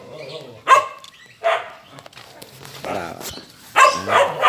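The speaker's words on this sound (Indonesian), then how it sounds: "Anjing." Several dogs at a kennel bark and yip in scattered bursts, some near and loud, with other calls more distant.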